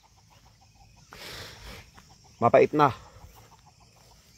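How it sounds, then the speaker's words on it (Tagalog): Chickens on a hilltop trail cluck in a few loud, close bursts near the middle, with a voice speaking briefly before them over faint outdoor background. "merong mga manok sa taas"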